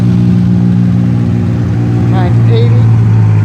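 A Toyota Corolla drives past at a car show, its mid-pitched engine humming loud and near, with a brief voice over it toward the end.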